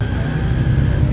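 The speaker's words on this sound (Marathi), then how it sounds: "तर काका आमचे खूप फास्ट गाडी चालवत आहेत" An auto rickshaw being driven fast, giving a steady close engine drone and whir with no voices.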